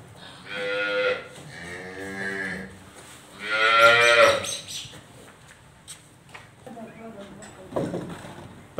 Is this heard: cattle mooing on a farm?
yes